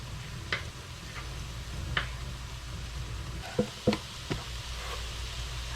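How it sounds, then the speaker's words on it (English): Andouille sausage fries in a pot with a quiet, steady sizzle, broken by occasional sharp clicks and clinks of a utensil stirring against the metal. "We're going to start putting in our andouille sausage. You want to kind of fry those up and warm those up as well."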